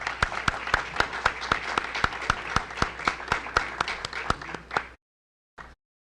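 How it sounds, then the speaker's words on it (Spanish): Audience applause at a Mexican electoral forum panel, a dense run of clapping that holds steady for about five seconds, then cuts off, followed by a brief final burst. "Un fuerte aplauso, por favor."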